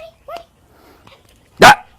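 A dog gives a few soft whimpers and yips, then one short, loud bark at close range, with no talking.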